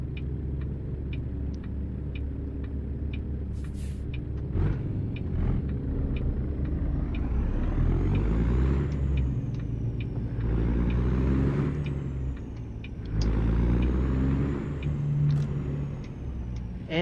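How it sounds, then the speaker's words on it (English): A heavy truck engine in American Truck Simulator, a Kenworth W900, drones steadily, its pitch climbing and dropping as it accelerates and shifts gears, with faint ticking clicks early on. "And now that I've got Slav Jerry's engine in it, I like the sound of it."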